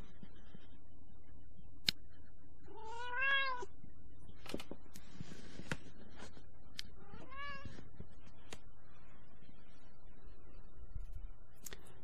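A cat meows twice in clear, drawn-out calls a few seconds apart, close and fairly loud against a quiet room with faint ticking and clicking.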